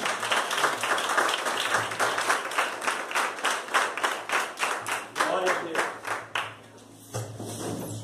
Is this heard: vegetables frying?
no